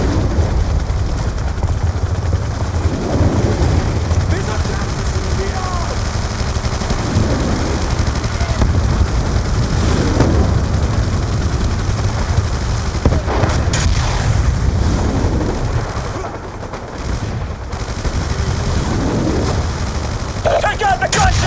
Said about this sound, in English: Scouts report enemy gunships to the north of the valley.